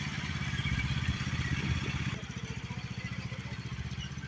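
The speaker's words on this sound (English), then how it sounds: "The lawn tractor drops the log." A lawn tractor engine chugs steadily and close by, a rapid even putter that carries on without a break while the machine drops a log, with a faint change partway through.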